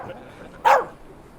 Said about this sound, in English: Please have the dog removed